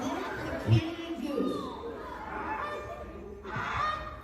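A kid mimics a goose call with a few honking bursts, set against crowd chatter and talk in a lively room.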